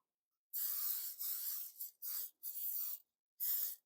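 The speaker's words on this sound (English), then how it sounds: "with some of this cooking spray" Cooking spray hisses onto the bottom of a pie pan in several short bursts of varying length separated by brief pauses, soft and close, with no talking.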